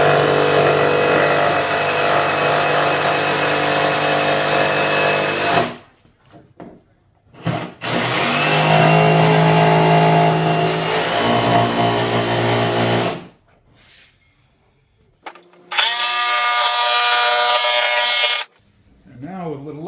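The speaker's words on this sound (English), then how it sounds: "we'll mirror that with our jigsaw" Jigsaw cutting through wood for a pet door, a loud buzzing saw run in two long bursts with brief pauses between and a shorter final burst, close up with no talking.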